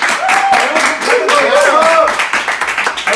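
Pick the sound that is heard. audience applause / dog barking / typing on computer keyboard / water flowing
audience applause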